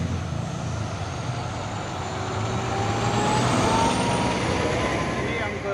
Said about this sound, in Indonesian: Ini yang ketiga kalinya mau dicoba ini ya, sama truk Trenton Puso PT PMPA.